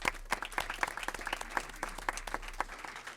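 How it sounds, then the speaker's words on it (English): A room full of people applauds after a speech at a Davenport community event, dense overlapping claps holding steady throughout, fairly close with no talking over it. "Let's give them a nice round of applause"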